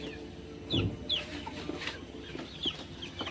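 Several high, thin chick chirps come in short bursts over a low background murmur, with a soft clucking sound near the start.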